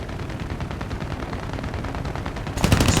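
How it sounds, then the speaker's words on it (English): Rapid automatic gunfire from ground troops in the War Thunder video game, a steady, dense rattle of shots throughout that swells into heavier, louder bursts near the end, with no talk. "See, our boys are shooting at something in the field."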